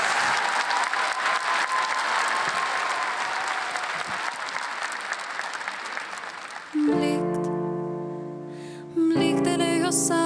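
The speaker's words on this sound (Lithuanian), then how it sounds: "Valdai mes skiriam plojimus savo." A television talent-show audience on Lietuvos Talentai applauds contestant Valda in a long, loud, even wash of clapping that slowly tapers. Sustained keyboard-like instrumental notes then take over as her performance begins.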